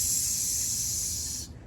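A parent imitates a snake's hiss during a pretend chase game with a child, a steady, close breathy hiss lasting over a second before cutting off abruptly.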